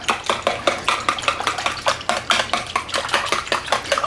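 Eggs whisked briskly in a bowl for cornbread dressing, a close, steady run of quick clinking strokes against the sides, with no talking.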